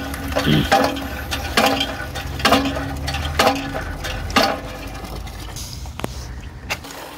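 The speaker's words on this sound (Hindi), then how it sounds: "हैंड पंप यहाँ पे सही काम करता है पानी एकदम आ जाता है" Water from a hand pump gushes into a bucket outdoors in Ladakh, a steady rushing splash with rhythmic surges from the pumping strokes and a few sharp clanks near the end.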